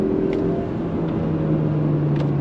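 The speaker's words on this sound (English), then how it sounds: "On throttle, here we go. Smooth shifts from the 6-speed automatic." A 2023 Mazda CX-30 Turbo with a 2.5-liter engine and 6-speed automatic accelerates, heard from inside as a steady engine drone with a faint whine, holding nearly even pitch across the short stretch.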